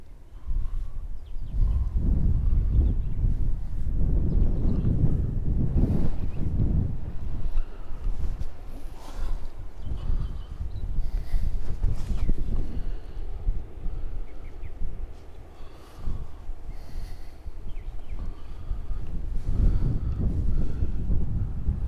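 Gusting wind buffets the microphone on a wooded coastal trail at Assateague Island National Seashore, a steady low rumble that swells and dips in loudness throughout, with no clear voices.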